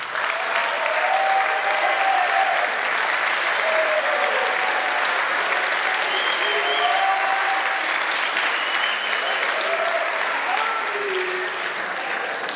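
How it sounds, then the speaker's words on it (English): Sustained applause fills a room as an audience claps for student committee members standing at a college awards event, a broad, even roar of hands lasting the whole stretch with faint shouts and cheers scattered through it. "please stand up, and let's give them a round of applause"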